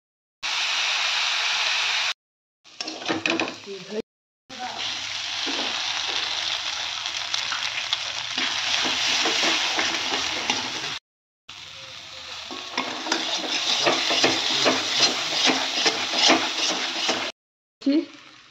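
Tarka lentil curry fries in a pan with a loud, steady sizzle and scraping stirs, broken by a few brief pauses.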